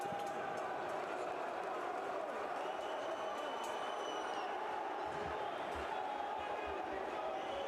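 Basketball crowd at a Tunisia v Senegal FIBA World Cup qualifier, a steady distant arena roar of cheering and applause with a few dull thumps near the end.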